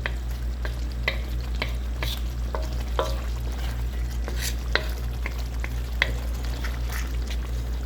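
Liver fries in a pan for igado, a steady loud sizzle broken by repeated sharp scrapes and taps of a utensil stirring the pieces, with a constant low hum underneath and no talking.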